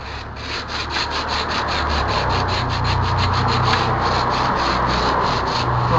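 Sandpaper rubbing the inside of a hollow sumac wood flute, a steady, close scratchy rasp in quick back-and-forth strokes continuing without pause.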